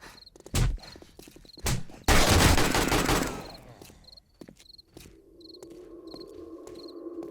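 Gunfire cracks out in 7 Days to Die Alpha 18, with a couple of single loud shots followed by a dense rapid burst, all over a steady background of chirping crickets.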